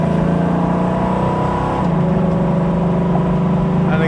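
A restomod car engine idles loudly up close and is then revved once into a deeper, smooth rumble that holds steady, with no talking over it.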